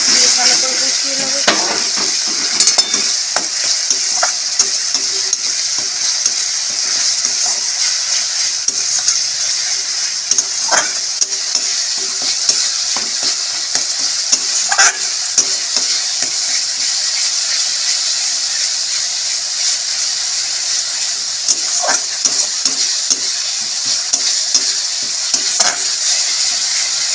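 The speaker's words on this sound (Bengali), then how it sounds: "দিয়ে দেবো গ্রেট করা টমেটো, দিয়ে দেবো নুন, দিয়ে ভালো করে কষিয়ে নেব।" Onion, ginger, garlic and grated tomato sizzle with salt in a hot pan, a steady bright hiss broken by regular scraping strokes of a spoon as the mixture is stirred, with a voice talking intermittently over the cooking.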